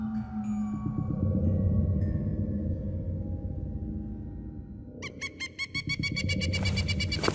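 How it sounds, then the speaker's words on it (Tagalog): A strange bird call at night: shrill, tonal cries that turn into a rapid, repeating pulsed call partway through, loud and close over a low steady background, with no talking. "nagising na lamang ako nang may marinig na kakaibang huni ng ibon"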